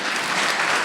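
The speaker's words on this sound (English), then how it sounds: "I need more claps than that" Audience at a Black Lives Matter activism talk in Los Angeles applauding, a brief burst of dense clapping, loud and close, with no voices over it.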